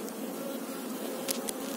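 Honeybees buzz in a hive, a dense steady drone with no breaks, close and even, with a couple of brief higher clicks near the end.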